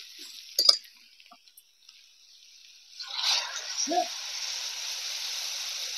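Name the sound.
water poured into pan of cooking mango shell curry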